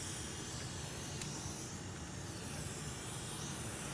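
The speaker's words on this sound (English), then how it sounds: "now we're gonna grab our end of that sucker so we can suck all the solder from the hose" A desoldering pump sucks solder off an Nvidia RTX 4090 Founders Edition graphics card under repair, making a steady, even, airy hiss that stays faint and constant throughout, with no voices.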